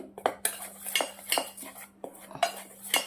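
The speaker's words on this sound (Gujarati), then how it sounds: "મેંદો અને કોર્નફ્લોર મિક્સ કરી દેવાનું છે." A metal spoon mixes maida flour and cornflour in a bowl, with about six sharp clinks against the bowl's side at an uneven pace and soft scraping between them, close up and with no talking.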